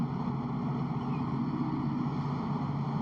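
A rear-mounted engine in an early Porsche 356 runs steadily, a continuous low droning hum with a dense rumble that holds level throughout, close and fairly loud with no talk.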